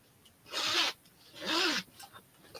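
Zipper on a vintage bag being pulled twice, two brisk rasping strokes about a second apart, close and fairly quiet.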